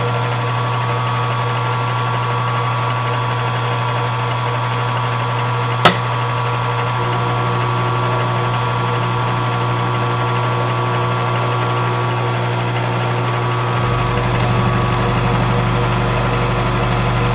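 A metal milling machine on power feed takes a 100-thousandths pass, a steady, loud motor hum and whine running throughout with one sharp click partway and a slight rise in tone near the end.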